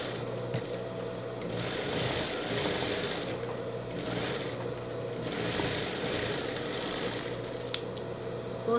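A sewing machine stitches a pocket flap in steady, close mechanical whirring runs, speeding and pausing briefly between bursts of rapid needle rattling.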